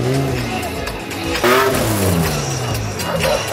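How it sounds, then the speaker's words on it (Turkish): Rally car engines rev and roar close by at a rally start in Bodrum, pitch rising and falling as they accelerate, with crowd noise and some voices in the background. "Motor sesleri gerçekten heyecan verici."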